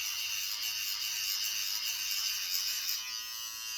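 A Kickstarter hybrid razor runs in a steady high buzzing drone close by, the motor tone holding even throughout with a slight shift near the end as it moves over stubble.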